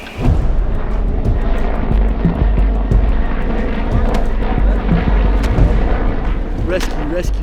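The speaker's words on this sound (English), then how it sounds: "We're directing a helicopter to pick us up at our current position" A rescue helicopter flying close during an Air Force downed-aircrew training exercise in simulated enemy territory, a loud continuous rotor and engine roar with deep low rumble and thumping pulses, talk heard over it.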